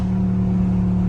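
A Dodge Scat Pack engine, heard close by, holds a steady low rumbling drone with a strong tonal hum and little change in pitch over the short stretch, with no talk.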